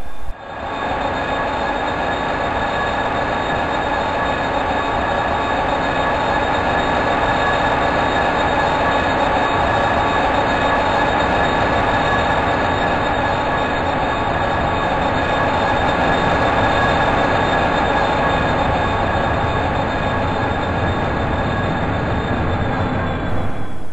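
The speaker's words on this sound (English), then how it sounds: "Now it's back to the runaround loop to couple up to the other sets of wagons" A freight train shunting to couple up wagons on the Furzebrook branch line rumbles steadily with a continuous heavy drone and metallic wheel noise, close by, moving slowly throughout with no pauses.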